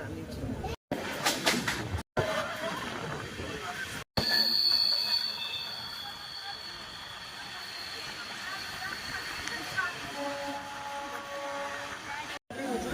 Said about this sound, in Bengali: পাহাড়ের মধ্যে এই যে টানেল, সেই টানেলের মধ্যে দিয়ে আমাদের ট্রেন চলছে